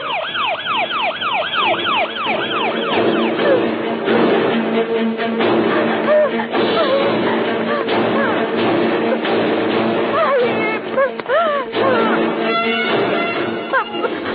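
An ambulance siren wails continuously, its rising and falling tones repeating under steady traffic rumble, with faint voices mixed in.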